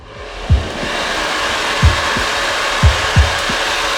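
A blow dryer running on its high cold setting blows a steady, loud, close rush of air for the whole stretch. Faint soft thumps from handling the dryer repeat at irregular intervals.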